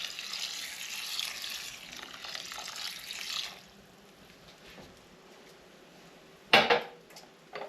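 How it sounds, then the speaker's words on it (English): Chicken broth is poured into rice in a baking dish, giving a steady liquid splash and rush for a few seconds, then quieter kitchen sounds and a sharp clatter of a dish or utensil near the end. "So we're going to add our chicken broth."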